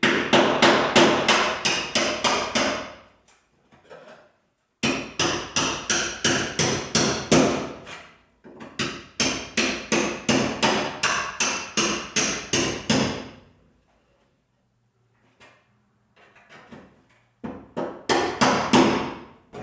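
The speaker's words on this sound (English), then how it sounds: "take your panel splitter and a hammer, and this is where you find the spot welds you couldn't see" A hammer drives a panel splitter to break spot welds, sounding as sharp, close metallic blows in fast rhythmic bursts of about ten strikes each, separated by short silent pauses.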